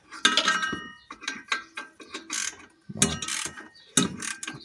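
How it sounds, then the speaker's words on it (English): A spark plug wrench ratchets as it tightens an exhaust manifold clamp on an Alfa Romeo 1.9 Multijet engine, with close, loud bursts of rapid clicking that stop and start in several rounds, no voices. "I'm using a spark plug wrench to do this job."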